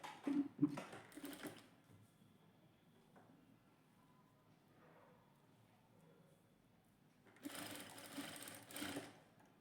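Sewing machine stitching a princess-cut blouse with a belt, sewing beside a cord, in short bursts near the start and again near the end, with quieter handling sounds in between.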